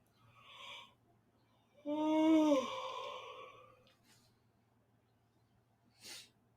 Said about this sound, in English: You yawning?